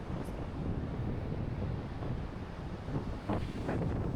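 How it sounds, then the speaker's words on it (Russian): Strong sea waves roar steadily on a North Sea beach strewn with shells, jellyfish and seaweed, a constant broadband wash with heavy wind buffeting the microphone and slightly louder surges near the end. "Волны такие сильные шумят."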